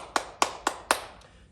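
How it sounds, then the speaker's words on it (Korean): Four sharp, evenly spaced hand claps ring out close by, a group clapping along with children, followed by a faint fifth tap and then quiet. "우리 격려하는 의미에서 우리 아이들과 함께 박수하겠습니다."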